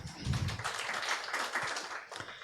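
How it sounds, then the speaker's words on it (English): Hand clapping ripples through the audience at a Tax Appeals Tribunal users' forum, a soft, fairly distant patter lasting a couple of seconds. "I think that deserves a hand clap"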